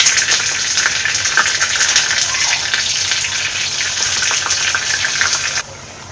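Dried red chillies and curry leaves sizzle steadily in hot oil while tempering for a Kerala-style ash gourd moru curry, a loud, close, hissing crackle that drops away suddenly near the end.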